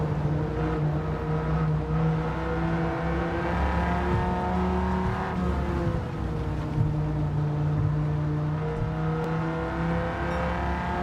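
A supercharged 900-horsepower Dodge Viper in a racing video game, its engine a loud, continuous low roar held at high revs for the whole stretch, with small pitch shifts under shifting and throttle, no talking.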